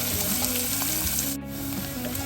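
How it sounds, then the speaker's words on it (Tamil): Onions, curry leaves and fenugreek frying in a pan, a loud, close, continuous sizzle with a brief dip near the middle and light stirring underneath. "வெங்காயம் சேர்த்துட்டு நல்லா வதங்க விடுவேன்."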